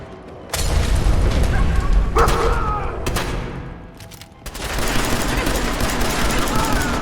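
Gunfire in the Fallout 4 video game, a close, loud burst of rapid shots that pauses briefly and then resumes as sustained heavy firing, with booming impacts mixed in.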